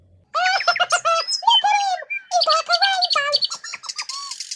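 Birds chirping and laughing-like calls as a sound effect in a children's story about Winnie the Witch, a busy run of bright twittering, squawks and coos, close and lively, with no narration over it.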